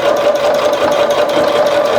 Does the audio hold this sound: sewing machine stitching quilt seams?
yes